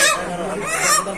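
At a poultry market in Pangsha, caged Sonali and broiler chickens squawk loudly and continuously, their harsh overlapping cries filling the space up close.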